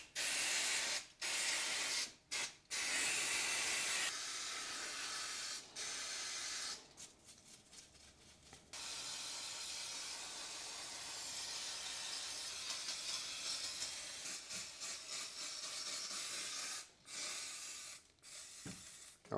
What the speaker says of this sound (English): let's unload a can of brake cleaner on the front of this engine so that the dirt doesn't get inside